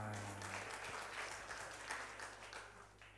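A church congregation applauds in sustained, dense clapping for about three seconds, with a steady low hum from the sound system underneath.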